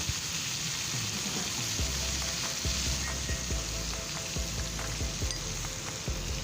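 Two large egg-laden crabs, about half a kilo, fry with curry powder in a pan, a loud steady sizzle with occasional stirring clatters close by.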